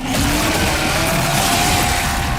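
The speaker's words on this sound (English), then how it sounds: "This chainsaw has a 14-inch blade with that signature meaty yet intimate sound, and when it revs, you can hear all the gnarly details." A 14-inch chainsaw in the video game Gears of War: E-Day revs loudly and continuously, its rising pitched whine holding close and dominant for the whole short burst.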